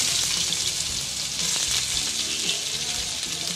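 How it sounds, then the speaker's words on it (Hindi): Cumin seeds and onions sizzle and fry in hot oil in a pan for a tomato-onion sabzi, a steady loud crackling hiss with faint stirring, close and without talk. "अब अच्छे से हम अनियन को सॉटे कर लेंगे।"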